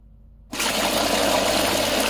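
SEAFLO 13B automatic bilge pump kicking on abruptly after silence, then running with a steady close whir and gushing water.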